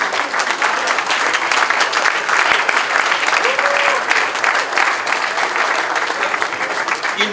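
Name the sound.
crowd applause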